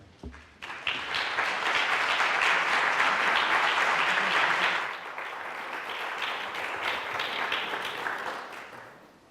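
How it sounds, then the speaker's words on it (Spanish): Sustained welcome applause from a seated audience at a book presentation on seventeenth-century music, loud and dense at first, then easing to a slightly softer but steady clapping until the end. "les pido un aplauso de bienvenida"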